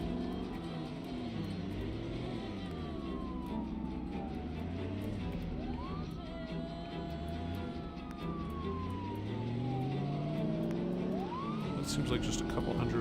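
An ambulance siren wails from a vehicle in the Project Zomboid zombie game, sweeping slowly up and down over a running engine, with someone talking over it.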